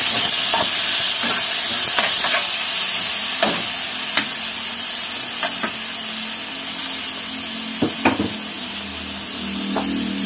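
Five tomatoes hit a hot pan while cooking kinamatisang manok (chicken with tomatoes), giving a strong steady hiss with scattered sharp crackles and pops, close and alone without talking.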